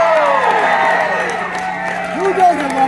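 Concert crowd at the Bowery Ballroom in New York cheering and whooping loudly and continuously, with a voice speaking over the noise.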